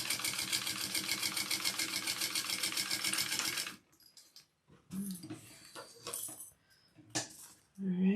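A sewing machine stitching the bottom of a bag with a zipper foot, a close, fast, even mechanical chatter for several seconds that stops abruptly, followed by fabric handling and light clicks.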